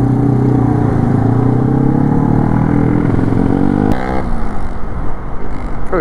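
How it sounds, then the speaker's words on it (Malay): A group of motorcycles riding in a convoy alongside a Yamaha NVX v2 scooter at night, a loud, constant droning engine roar that shifts and roughens in the final seconds. "Oh, ramai budak-budak motor lah."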